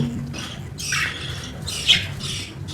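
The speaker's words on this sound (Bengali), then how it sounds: "আমি কালকে নতুন বাজিগার আনছি, অনেকগুলা পেয়ার আনছি" Budgerigars, a new group including a rainbow-coloured pair, give short, harsh squawking bursts in a row over a steady noisy background. Nobody speaks.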